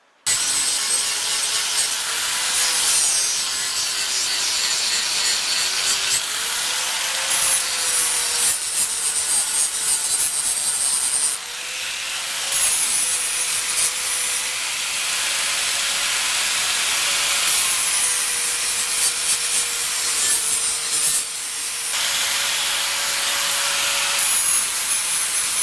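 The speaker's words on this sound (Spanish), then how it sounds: "Vamos a ir puliéndola un poquito." A wooden-handled double-grip draw knife is polished with steady, continuous abrasive rubbing and a faint whine for over twenty-five seconds, dense and even, with only brief pauses and no talking.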